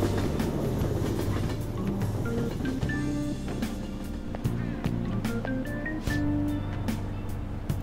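A train rolls along in the video game Persona 5, with a steady rumbling ride and faint rhythmic clatter under it, continuous and fairly loud.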